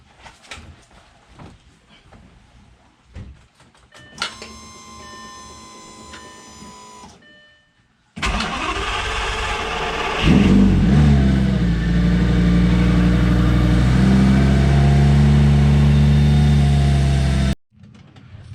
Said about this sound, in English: we're going to go ahead and fire this thing up just like we did the other side, run it for a while